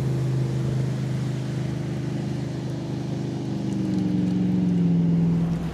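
A motorboat engine drones steadily nearby, its hum shifting in pitch as the boat moves past, with no talking.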